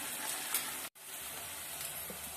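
Onions frying in hot oil with ginger garlic paste added, a steady close sizzle that runs throughout with one brief dropout near the middle.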